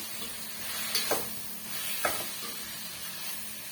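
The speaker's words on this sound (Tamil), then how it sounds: "மீடியமான ஃப்ளேம்ல வச்சு நல்லா வந்து கிண்டி கொடுத்துக்குங்க தக்காளி பழம்லாம் நல்லா வந்து வதங்கி வரட்டும்" Tomatoes sautéing in a pan over a medium flame for a tomato pickle, a soft, even sizzle with two or three distinct spatula scrapes as they are stirred.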